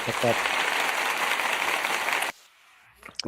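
Applause-like broadband noise during a sports podcast, steady and fairly loud for about two seconds, then cutting off abruptly into near silence with a brief voice at the start.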